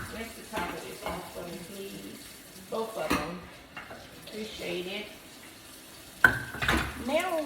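Tap water runs in a kitchen to rinse the tops of sauce cans, a steady hiss heard under close conversation with a few clinks near the end.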